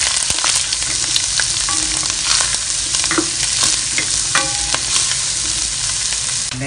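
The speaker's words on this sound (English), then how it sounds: "stir fry" Onion, garlic and squid stir-frying in a hot pan for a shakshuka-style dish give off a loud, continuous sizzle, with spatula scrapes and clicks throughout, close up and without speech.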